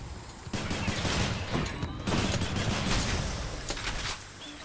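Bombard weapon firing in the Hades video game, a dense volley of booming blasts and crackling impacts layered over busy game noise, moderately loud and continuous.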